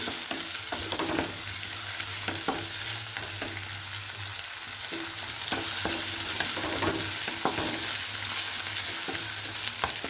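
Onion and green chilli fry together in hot oil for vermicelli upma, a steady close sizzle running throughout with occasional clicks of stirring.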